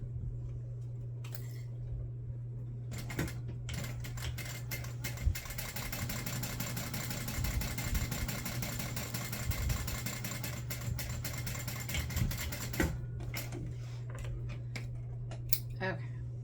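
A sewing machine stitches an H2O 2Go bag with a steady, fast mechanical whir that starts and stops in short bursts around a longer continuous run, over a constant low hum.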